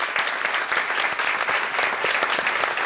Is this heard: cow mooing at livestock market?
no